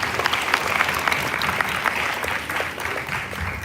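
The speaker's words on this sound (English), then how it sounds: "Can we once again have a huge round of applause for all the student leaders?" A school audience claps for student leaders at a sixth form leadership summit, dense steady applause from a crowd filling the room, sustained without a break for a few seconds.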